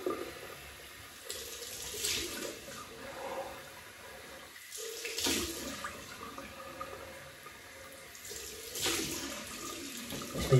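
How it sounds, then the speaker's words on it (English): Cold water running from a bathroom tap for a rinse during a double-edge razor shave: several surging bursts of flowing water with quieter gaps between them, close by. "cold water rinse"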